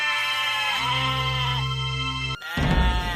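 Goats bleating nearby, a long sustained wavering cry that carries for over two seconds, followed by a brief gap and then another harsher bleat, with no speech over it.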